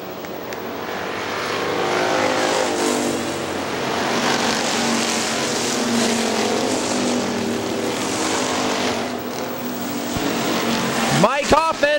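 Factory stock cars racing at Hartford Speedway Park in 2001, their engines droning steadily and loudly as the pack circles. An announcer talks over the noise, and one car roars close by at the end.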